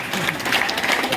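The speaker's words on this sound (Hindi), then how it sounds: "जोरदार तालियां, शाबाश" A crowd applauds at a village gathering with a sarpanch present: continuous, loud, dense clapping with voices mixed in, steady throughout the brief moment.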